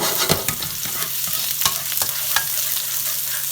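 Chopped garlic cloves fry in olive oil in a pan, a close, steady crackling sizzle with brief stirring scrapes popping up every half second or so.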